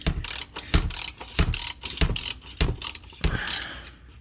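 A ratchet wrench loosens the engine oil drain plug on a 2016 Toyota Prius, producing a run of sharp, close metallic clicks and thumps in a steady uneven rhythm, each pull a loud burst.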